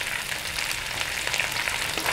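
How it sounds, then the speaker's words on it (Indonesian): Pieces of salted snakehead fish fry in hot oil with a steady, bright sizzle and crackle that holds at an even level throughout, with no talking. "Saya goreng ikan asinnya dulu ya,"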